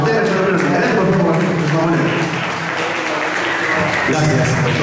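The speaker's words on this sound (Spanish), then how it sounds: "vamos a recibir un fuerte aplauso" Sustained applause from a conference audience in Huánuco fills the room, dense and steady for several seconds, with voices mixed into the clapping.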